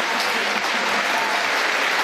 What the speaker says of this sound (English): Everybody, let's have a massive round of applause for our national champion, Fiona.